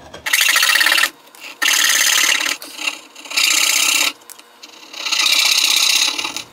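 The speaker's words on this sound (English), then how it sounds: "Now we're gonna fret saw away the waste." A fret saw cuts away waste from soft mahogany in four loud, rasping bursts of quick back-and-forth strokes, each lasting about a second, separated by short pauses.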